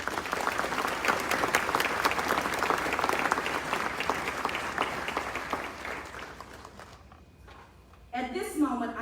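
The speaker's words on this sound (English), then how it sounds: "Please join me in a round of applause" Sustained applause from an audience at a church-hosted Student of the Year celebration, dense and steady for about seven seconds before fading, then a voice begins speaking near the end.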